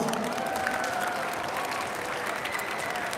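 An audience at a school district arts showcase gives sixth-grade performers a full round of applause: dense, steady clapping from many hands that fills the room evenly and continues throughout.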